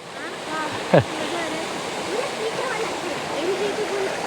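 Birthi Waterfall's water rushes in a constant, full roar, with a brief splash near the start and people's voices faintly mixed in beneath the torrent.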